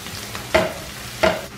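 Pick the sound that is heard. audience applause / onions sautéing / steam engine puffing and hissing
onions sautéing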